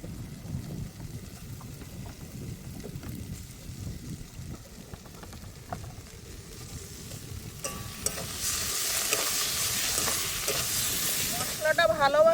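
Cumin and garam masala paste fries and is stirred in a pan while a crab curry is cooked on a boat by a river: a soft sizzling hiss with scraping stir strokes that grows louder and brighter toward the end.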